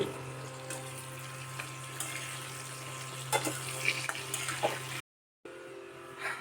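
Potatoes and fish sizzle in a frying pan with a steady close hiss and crackle, scattered small pops and clinks over it, broken by a brief cut near the end.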